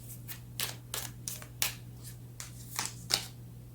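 Tarot cards being shuffled and drawn by hand, a series of soft papery riffles and flicks spaced about half a second apart over a low steady hum, close and quiet.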